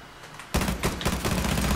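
Rapid automatic gunfire erupts abruptly in a Rainbow Six Siege match, a loud close burst of several quick shots in sequence after a quiet moment.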